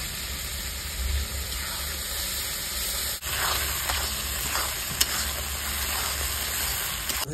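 Tomato and lentil paste frying in a pan, giving a steady, even sizzling hiss throughout with a couple of faint clicks, moderately quiet and uninterrupted by voices.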